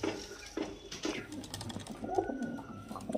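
Madrasi pigeons coo in a loft, repeated soft throaty calls close by over a faint background hum and light tapping.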